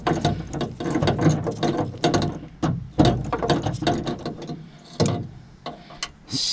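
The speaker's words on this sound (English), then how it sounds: "spin out the 2 bolts" A ratchet spins out two bolts from a car's rear wing, a busy run of rapid clicking pawl strokes in quick bursts with short pauses, close and fairly loud.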